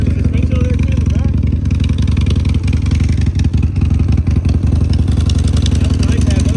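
A 2026 Husqvarna 701 motorcycle engine runs at a steady loud idle with a thumping, clattery tone throughout, and people talk over it.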